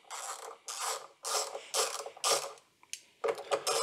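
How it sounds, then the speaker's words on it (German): Socket wrench with a 10 mm socket loosening the nut on a Siemens IQ 300 washing machine heater, a close ratcheting clicking in six or seven short strokes with brief pauses between. "Und da lösen wir jetzt diese Mutter."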